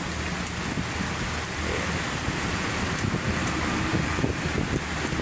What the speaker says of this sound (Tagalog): Lakas pa rin ang ulan.